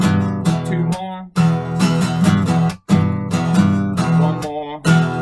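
An electric guitar plays a riff in bright, distorted power chords, alone and loud, in choppy repeated phrases separated by short gaps.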